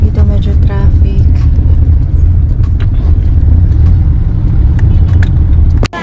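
Street traffic at Pasig market in the Philippines rumbles steadily and close, with engines and passing vehicles, short honks and clatter, under occasional talk.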